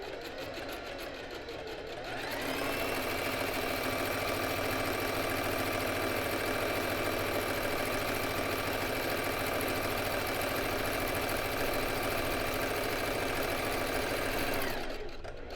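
Sewing machine stitching a wide zigzag in freehand embroidery, a fast, even mechanical whirring that starts abruptly after a quiet moment, runs steadily for about twelve seconds, then stops.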